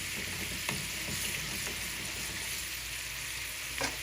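Homemade sauce for chicken steak cooks in a pan with a constant soft sizzle and hiss, a few light spoon scrapes breaking through, close but fairly quiet with no voices.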